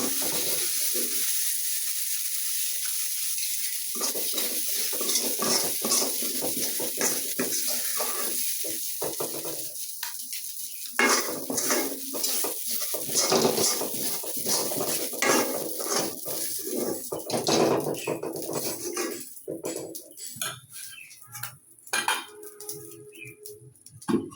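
Fish roe and onion frying in a kadai: a steady sizzle with clinks and scrapes of a utensil against the pan, busier clattering toward the end.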